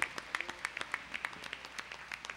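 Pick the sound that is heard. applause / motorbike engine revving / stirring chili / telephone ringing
applause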